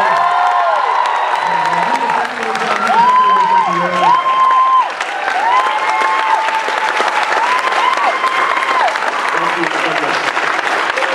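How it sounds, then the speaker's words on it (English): A student crowd at NUS U-Town applauds A. R. Rahman with sustained loud clapping, punctuated by whoops, high cheers and shouted voices rising over the roar. "give a round of applause for the man."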